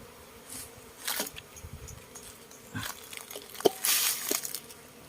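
Cavity-nesting honey bees around a hive in a bucket give off a faint buzzing, broken by scattered rustles, knocks and a few sharper clatters close by.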